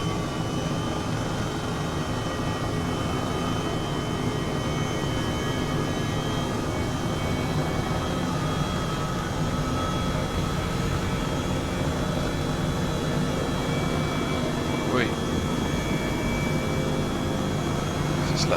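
A freeware helicopter in the MSFS 2020 flight simulator runs its engine under throttle, giving a loud, continuous droning whine with a steady pitch that holds for the whole stretch.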